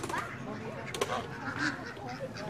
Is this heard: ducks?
yes